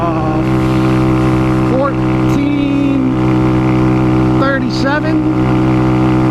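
Honda Grom motorcycle engine droning steadily on a dirt road on Wadamalaw Island, a loud close hum that holds under speech with brief pitch shifts.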